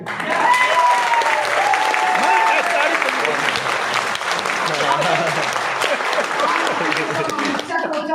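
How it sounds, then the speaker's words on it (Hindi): Sustained loud applause from a seated audience, many hands clapping steadily for several seconds, with voices mixed underneath. "तो सारे ताली बजाएंगे"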